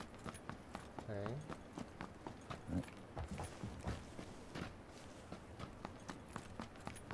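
Footsteps in the battle royale shooter PUBG, quiet, irregular thuds and scuffs that come one after another, with brief low voice murmurs over them.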